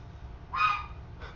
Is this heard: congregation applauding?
no